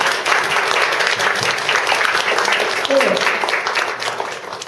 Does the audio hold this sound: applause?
yes